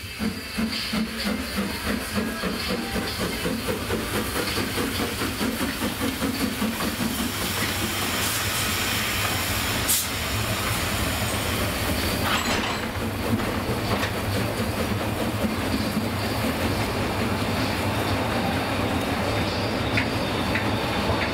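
The Raging Roland narrow-gauge steam train pulls out of a station platform in Germany with a steady hiss and rumble, then faint rhythmic clatter builds as it moves, loud and close throughout.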